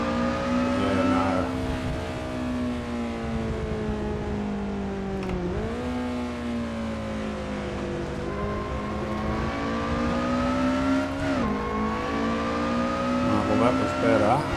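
Lotus Elise SC race car lapping Mount Panorama, Bathurst, its engine holding a loud, steady harmonic drone that dips and climbs with gear changes and revs, close and continuous for the whole stretch with no talk over it.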